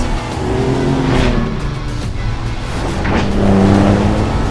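A Ford Raptor truck engine with ROUSH performance parts roars under throttle during rally-style driving, rising and falling in pitch as it revs hard, loud and close throughout.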